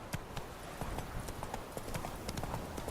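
Hooves of a horse clip-clop steadily in The Witcher 3, a rapid, even rhythm of close, bright hoofbeats that continues throughout over a faint outdoor ambience.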